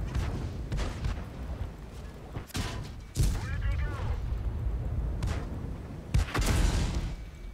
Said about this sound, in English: Arty shooting very really good now.